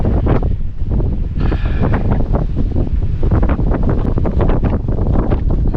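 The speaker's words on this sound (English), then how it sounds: "Winds are gusting 17 knots" Strong wind buffets the microphone in heavy gusts up to 17 knots at sea on a sailboat off St. Lucia, with rushing water and surf beneath, loud and constant throughout.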